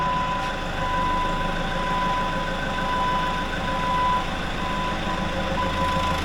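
A Deere 755K track crawler loader runs steadily nearby, its engine a constant drone with a thin high whine over it and no voices.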